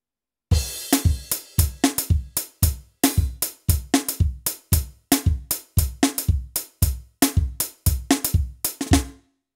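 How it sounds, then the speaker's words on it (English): A drum kit plays a zouk groove without cowbell, a steady, driving run of punchy kick, snare and cymbal hits in a syncopated repeating rhythm, close and loud throughout. "The whole drum pattern, without playing the cowbell, can sound like this."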